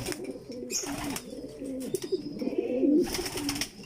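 A racing pigeon back from a derby in Pinamalayan coos close by in soft, repeated throaty rolls, with faint rustling and other bird sounds around it.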